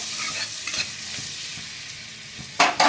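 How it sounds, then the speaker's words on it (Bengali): Butter melts in a hot pan for paneer butter masala, giving a soft, steady sizzle with light stirring scrapes, and a brief louder crackle near the end. "এবার আমি বাটার দিয়ে দিলাম আর একটু বাটারটা জাস্ট মেল হবে"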